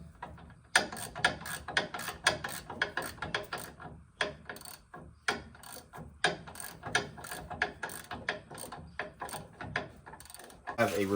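A hand ratchet clicks in rapid, uneven bursts while torquing the front shock nuts on a 3rd-generation RAM 2500 pickup, close and fairly quiet, with brief pauses between strokes.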